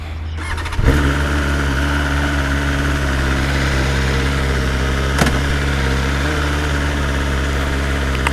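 A BMW M1000R motorcycle engine cranks and fires abruptly, then settles into a loud, steady high idle with a brief blip partway through.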